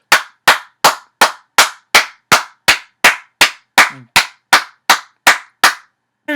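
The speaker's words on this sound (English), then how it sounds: "Get a round of applause for that" A single pair of hands claps about fourteen times in an even, steady rhythm, each clap sharp, close and loud, with no crowd behind it.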